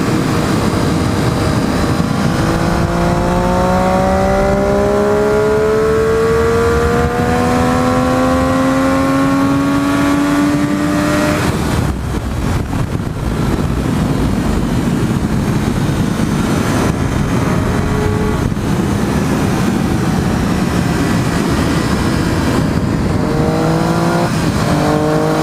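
A motorcycle engine revs hard while riding, climbing in pitch through repeated gear shifts, loud and close under constant wind rush, with no talking.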